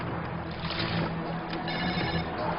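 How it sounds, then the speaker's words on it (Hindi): A telephone rings in an indoor drama scene, a steady, fairly loud ring that fills the short moment with no talking over it. "इस वक्त किसका फोन आ गया?"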